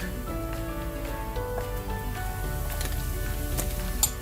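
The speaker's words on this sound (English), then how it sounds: "Now I'm going to add the marinating pork." Marinated ground pork sizzling steadily in a pan with browned onions, a continuous crackling hiss with scattered sharper pops, close and moderately loud, no talking.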